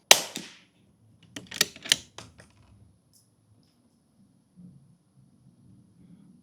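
A single distant gunshot fired at a target cracks sharply and fades quickly, followed by a few faint light clicks and then near silence.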